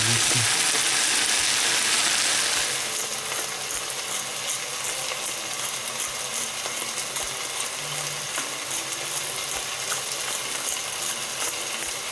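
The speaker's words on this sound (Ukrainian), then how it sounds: "Грибочки смажаться 7 хвилин." Continuous crackling sizzle of oyster mushrooms frying in a pan, with occasional small clinks and scrapes, no voices.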